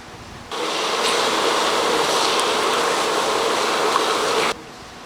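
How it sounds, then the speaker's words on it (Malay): Chicken pieces cooking in a pot with a little water, giving a loud, steady hiss and sizzle that starts abruptly, holds evenly for about four seconds, then cuts off. "Kita masakkan ayam sikit."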